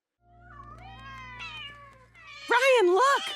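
Cartoon cats meow in a Family Guy scene, a few drawn-out, wavering cries that grow louder and more strident toward the end, over a low steady hum with a voice-like quality.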